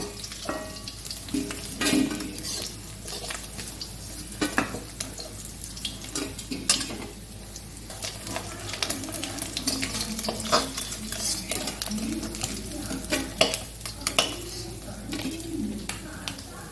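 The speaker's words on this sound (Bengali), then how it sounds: "আমি এই একই রকমভাবে এই মাছ কটা আরও ভেজে নেব" Small pond-raised chanda fish fry in hot oil with a steady soft sizzle, stirred now and then, while birds chirp faintly in the background.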